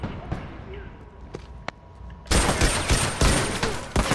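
Sparse faint clicks give way to a sudden loud burst of rapid gunfire in The Last of Us Factions multiplayer on PS4, continuing in dense, repeated shots.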